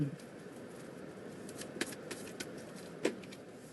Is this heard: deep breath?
no